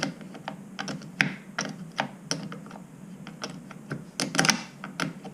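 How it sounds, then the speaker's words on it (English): A wrench loosens the lock nuts holding the drive chain on a 180 Mirage drive mower, giving quiet, irregular close-up ratcheting clicks and metallic ticks. "take your wrench, undo the nuts that hold the chain."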